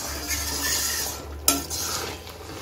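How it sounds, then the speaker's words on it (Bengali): Mung dal with fish head in a pot being mixed with ground roasted cumin, a soft steady stirring hiss with one sharp metallic clink of the spoon midway, no speech. "সব কিছু ভালো করে মিশিয়ে নিচ্ছি।"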